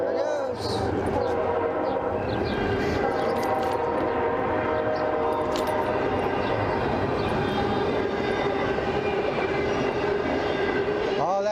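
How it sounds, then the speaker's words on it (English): A long freight train passes nearby with a continuous loud rumble and rattle of wagons, the roar staying steady throughout. "Now, here comes the train. They run through here regularly. There it goes."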